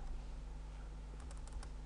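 A name is typed on a computer keyboard, a quick cluster of soft, close key clicks in the second half over a faint steady hum, with no voice.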